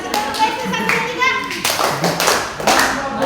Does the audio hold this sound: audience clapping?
yes